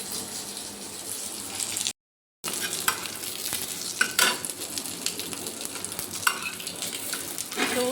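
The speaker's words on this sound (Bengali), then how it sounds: "এবার নিয়ে ফ্রিজ থেকে বের করে একটা মাছ ভেজে দিচ্ছি" A piece of rohu fish fries in a pan with a steady sizzle, joined by scraping stirs and the clink of utensils against the pan. The sound cuts out briefly partway through.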